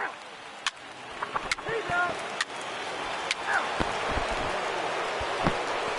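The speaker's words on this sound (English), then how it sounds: "Not exactly ideal baseball conditions with the rain coming down." Rain falls steadily in a PS4 baseball video game, a constant soft hiss under the game's crowd and commentary, broken by a few brief clicks and knocks.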